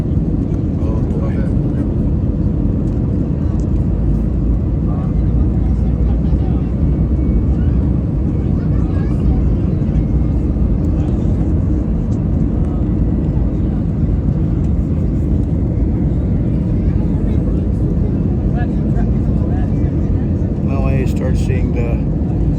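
Steady airplane cabin roar on a flight to Skardu before landing, a constant low engine drone filling the whole stretch, with faint muffled bits of talk underneath.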